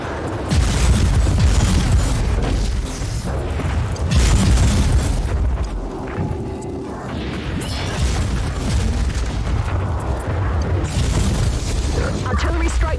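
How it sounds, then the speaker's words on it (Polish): Heavy, booming artillery strike explosions from the video game Warhammer 40,000: Inquisitor – Martyr roll in one after another, dense and loud, with rumbling low-end impacts and crashing debris layered throughout. "Artillery strike commencing. Incoming."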